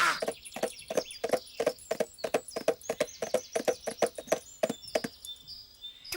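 A horse's hooves clip-clop in a steady, even walking rhythm, close and fairly clear, with faint birdsong chirping in the background and no voices.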